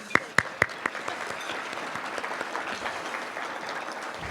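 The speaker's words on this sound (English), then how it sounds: "So I'd just like to do a round of applause for Stacy." A crowd applauds at a university scholarship banquet, opening with a few sharp claps and settling into steady, dense clapping from a room full of people.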